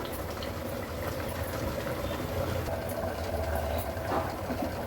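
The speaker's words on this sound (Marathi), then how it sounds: "हे बघा, कालवणाला छान उकळी आली आहे" Traditional Agri-Koli mixed fish curry boiling on high flame in a pot, a continuous, moderately loud bubbling simmer with a low, steady churn that stays fairly even throughout.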